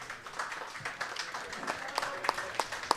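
Scattered clapping from a small crowd after a croquet semifinal match, light and uneven with a few sharper claps toward the end, fairly faint.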